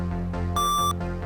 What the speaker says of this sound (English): They press the buzzer first.